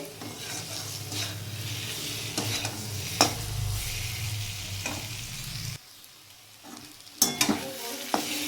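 A spice paste for cabbage kofta curry fries in oil in a pan over medium heat, sizzling steadily with a low bubbling rumble and repeated spatula scrapes and clacks, close and alone without talk.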